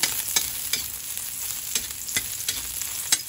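Garlic sautés in a small amount of oil for Filipino sautéed cabbage, with a steady close sizzle broken by about eight sharp spatula scrapes that come at a rough, uneven rhythm.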